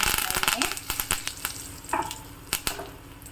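Dried chilli and curry leaves sizzle in hot oil for a traditional Malenadu Havyaka village tempering, with sharp crackling pops and bursts over a frying hiss, loud and close.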